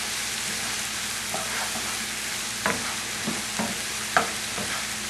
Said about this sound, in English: I'm going to take the mushrooms, the onion, the garlic, and I'm going to sweat it down